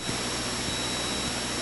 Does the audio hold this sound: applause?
no